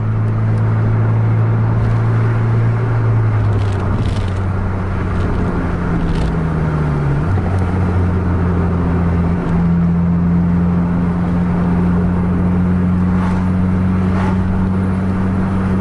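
A Scania coach bus engine held at full throttle on the road, a loud continuous low drone that climbs and shifts pitch as it accelerates, with steady road and wind roar throughout and no voices.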